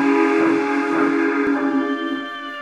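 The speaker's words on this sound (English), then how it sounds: "he heard a chuffing sound, followed by a deep whistle" A deep steam train whistle blows steadily with layered harmonic tones, loud and close, fading slightly toward the end.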